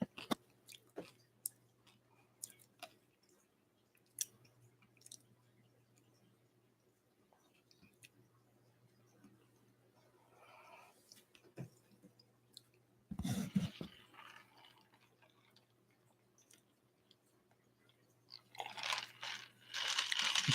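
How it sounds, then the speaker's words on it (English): Close, quiet chewing and crunching with scattered moist bites and clicks over a faint hum, growing louder in bursts near the end. "Y'all can't hear me chewing, can you?"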